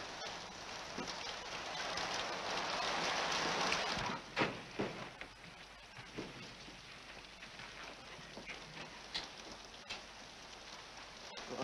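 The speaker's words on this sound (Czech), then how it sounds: "Sem taky prší." Steady rain falls on surfaces outside, a dense continuous hiss with scattered louder drops and taps, moderately close and without talk.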